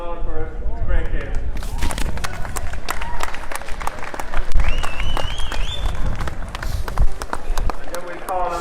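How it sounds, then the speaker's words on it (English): Crowd applause and cheering fill the air after a junior division football championship final in Meath, with steady clapping throughout, a whistle-like tone midway, and voices talking over it. "We give Simonstown a round of applause for a great game."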